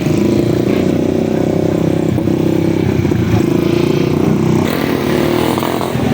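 A motorcycle engine drones loudly and steadily while riding, a close, continuous mid-pitched hum with slight shifts in pitch, and wind noise over it throughout.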